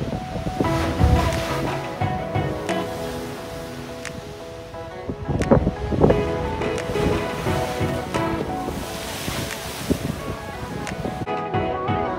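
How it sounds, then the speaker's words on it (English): Ocean waves surging through the rock tunnel of the Kiama blowhole on the Australian coast, a steady roar of surf and wind with louder rushing bursts as swells push through, close and continuous. "As each wave surges through the tunnel, air is compressed in the rear chamber"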